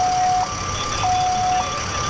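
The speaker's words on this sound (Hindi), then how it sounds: "अभी भी आपको सायरन की आवाज यहां पर सुनाई दे रही है" Ambulance siren near a blast site by the Red Fort in Delhi, a two-tone wail alternating steadily over a constant roar of street and traffic noise.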